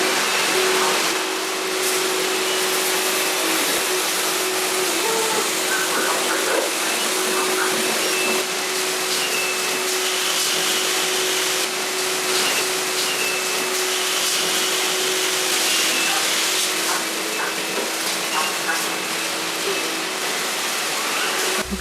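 A Eufy robot vacuum runs over leaves with a loud, continuous whirring rush and a faint steady hum, unbroken for the full stretch.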